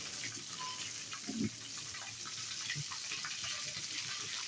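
Boiled milk pours into a cooking pot over low heat with onions in a home kitchen while chicken roast and pulao are being made, a steady, fairly loud liquid gush with sizzling throughout.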